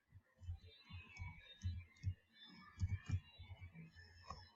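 Typing a formula on a computer keyboard: faint, irregular soft key clicks and taps in short clusters, close but quiet, with no talking.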